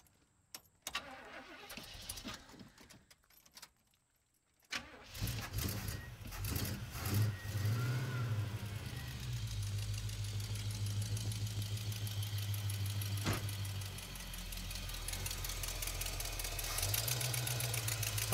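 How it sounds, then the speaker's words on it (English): A few sputtering cranks and pops, a short silence, then the engine of a 1970 Cutlass left sitting for 15 years catches and settles into a loud, steady rumbling idle with slight variations. "then I'll crank the idle up until we're happy that this thing is rumbling along smoothly"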